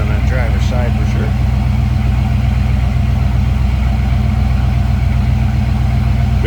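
A 1976 Pontiac Trans Am with a newer exhaust runs at a steady, loud, deep idle throughout, with someone talking over the engine rumble.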